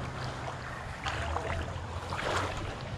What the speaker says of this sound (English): You can just hear us walking on the water.